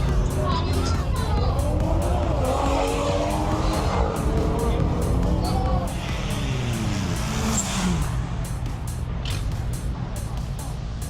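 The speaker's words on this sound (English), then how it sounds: "Oh, that Starlet is pretty quick." A 1.3 liter Toyota Starlet runs a drag race at a Thai car festival. A loud engine rises and falls in pitch as it accelerates away, over a constant crowd murmur with people talking nearby.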